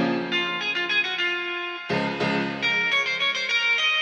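A Telecaster guitar plugin run through RC20 Retrocolor distortion and reverb, with the tone raised, plays a bright, thick, sustained phrase of repeated notes, loud and alone.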